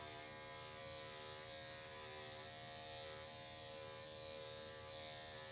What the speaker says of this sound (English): We're working with an Andis 5-speed today.